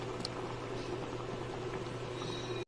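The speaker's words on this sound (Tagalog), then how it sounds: "Kulong-kulo na ang ating sinigang." Sinigang na pata soup with taro, radish and okra boiling hard in a covered pot, a steady close bubbling simmer with a low hum underneath, ending in a brief clatter.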